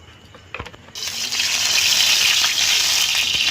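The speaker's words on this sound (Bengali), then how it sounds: "তো কড়াটা গরম হয়ে গেছে, তেল দিয়ে দিচ্ছি" Oil poured into a hot wok (kadai) sets off a sudden loud, steady sizzle that starts after a brief clatter and holds evenly to the end, with no talking.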